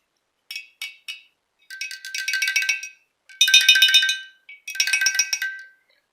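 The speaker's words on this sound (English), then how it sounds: "I think I am making a water xylophone." Glasses filled to different water levels ring as a water xylophone, struck in short bright taps and quick clusters of clear chiming notes against silence.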